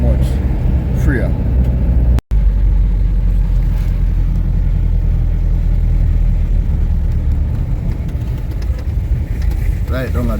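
Road traffic moving past Church Corner, St. Thomas, Jamaica, a constant low rumble of engines and tires with passing vehicles, heard under someone talking throughout.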